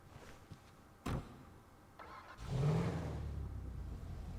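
Buffalo S car engine from GTA 5 giving a low, steady rumble that swells in after a few short clunks and carries on at moderate level.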